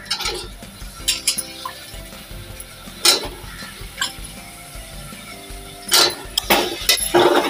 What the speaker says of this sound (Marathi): आता मी बटाटे टाकून घेतो.